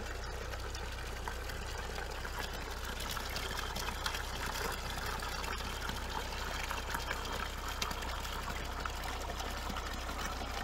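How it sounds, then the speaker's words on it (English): Spring water trickles out of the ground along a Jeep Cherokee trail at Crystal Recreation Area, a faint, steady flow that runs alone for the whole stretch under a low background hum. "another cool place on this route is this water coming out of the ground here"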